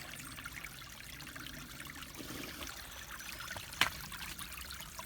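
Mountain spring water trickles out of the ground beside the Appalachian Trail approach, a faint, steady babble close by with one brief sharp knock near the end.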